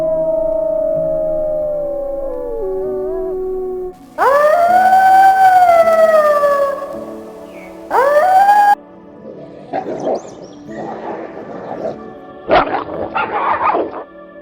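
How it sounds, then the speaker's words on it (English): Russian wolves howl in long, rising and falling tones, with one sustained howl and a shorter one, followed by scattered yelps and barks, loud and close. "These are the sounds Russian wolves make."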